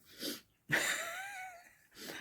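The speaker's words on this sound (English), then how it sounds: "I have sneezed again." A single sharp sneeze bursts out after a brief intake of breath, followed by a wheezy exhale; close and fairly quiet.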